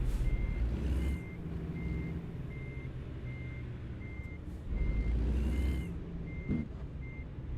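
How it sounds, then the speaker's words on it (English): A cab-over truck engine in a driving video game rumbles low and steady, with reversing beeps repeating evenly throughout and a brief air-brake hiss in the middle. "I like the sound of the engine in this"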